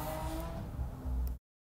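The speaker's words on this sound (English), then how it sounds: "why are you revving up your car down the street at 6 o'clock in the morning?" A car revs down the street outside early in the morning, a sustained muffled engine drone with rising low rumble that cuts off abruptly, heard from a distance through walls.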